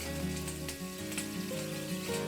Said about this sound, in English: I'm going to be adding some ghee, some curry patta into this, some cashew